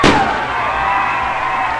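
Fireworks burst after a touchdown at a high school football game in Somerset, one sharp loud bang followed by a long ringing, crackling tail over a distant stadium crowd.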